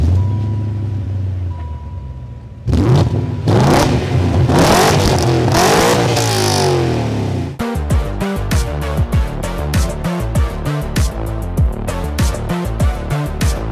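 A BMW 335i engine revs hard several times, rising and falling in pitch, then settles into a loud, rough, throbbing idle close by.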